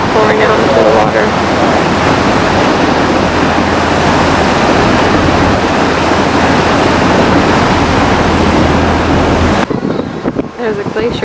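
A waterfall in Alaska pours into the sea, heard as a steady broadband rush of water mixed with wind buffeting, ending abruptly with a quieter tail.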